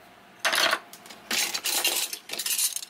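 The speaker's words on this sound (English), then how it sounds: "We'll put his straws right here in our weird knife set." Metal straws and knives clatter into a knife block, three bursts of bright jangling clinks with pauses between, close and fairly loud, no talking.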